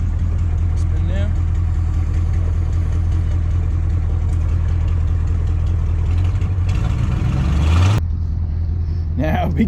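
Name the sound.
1985 GMC 3500 truck in reverse, wheel spinning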